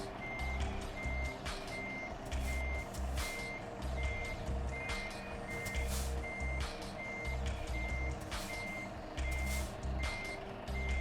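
A simulated truck backing a trailer in Euro Truck Simulator 2 sounds a steady, evenly spaced reversing beep over a low diesel engine rumble for the whole stretch, with no voices.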